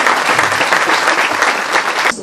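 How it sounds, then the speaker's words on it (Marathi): A crowd at a saree festival gives salesmen a loud round of applause, dense, continuous clapping that stays strong throughout before cutting off. "मला सगळ्यांना विनंती करायची की ह्यांच्यासाठी एकदा जोरदार टाळ्या"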